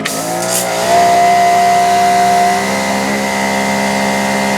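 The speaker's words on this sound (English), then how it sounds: "got our turbo nozzle. Now we're going to start it up. And there it goes." A Greenworks 3000psi electric pressure washer with a turbo nozzle starts up after a brief click, its motor rising into a loud steady whine and hum that settles and runs on close by.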